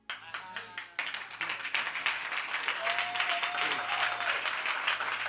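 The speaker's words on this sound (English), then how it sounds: "It's not you clapping for me or Pastor Elijah" A church congregation claps, starting with a few sparse claps before swelling into full, steady applause from the whole room, with a brief sustained tone in the middle.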